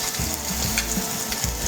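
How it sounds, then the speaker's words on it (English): Crab cakes sauté in a hot pan, giving a close, steady crackling sizzle with bubbling pops that carries on without a break. "they're starting to saute up really nice. You see the bubble happening, you can hear it"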